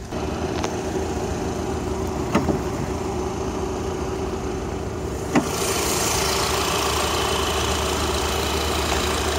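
An Audi A3 Sportback's 200-horsepower 2.0 TFSI engine idles steadily after startup with a constant low hum, a couple of sharp clicks breaking through, and the tone brightens slightly partway through.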